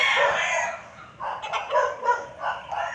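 Roosters at a poultry farm crow and cluck, a long drawn call at the start followed by several shorter repeated calls, fairly close and loud, with no talking.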